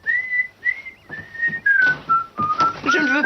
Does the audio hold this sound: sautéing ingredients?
no